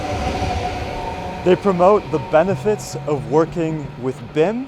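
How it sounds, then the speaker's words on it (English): A loud train passes nearby as someone talks over it, its rumble and rail noise steady beneath his voice for the whole stretch. "That was a loud train."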